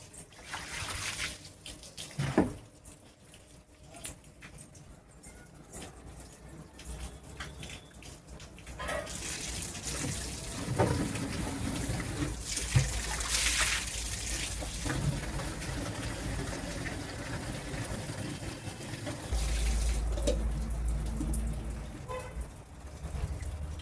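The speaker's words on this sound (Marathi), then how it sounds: "त्यात उरलेलं शिळं पाणी वगैरे मी ते कुंड्यातनंच घालते" Leftover stale water is poured from a container into potted plants at a village home, a steady splashing and trickling pour that runs through most of the stretch without any talk over it.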